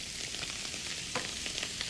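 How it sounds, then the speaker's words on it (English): Shrimp and garlic sizzle in a frying pan over high heat, a dense, steady hiss of spitting oil with small crackles and pops, close up and without any voices. "You want to keep this frying pan on really high until the shrimp kind of sizzles down a little bit."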